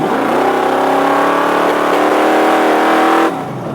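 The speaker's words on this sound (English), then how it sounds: "I'm just gonna floor it and just see if I can get it to do a burnout" A 1968 Camaro pro street car held on a line lock for a burnout, its engine floored into a loud, sustained, steady roar for over three seconds before cutting off abruptly, very close and with no talking.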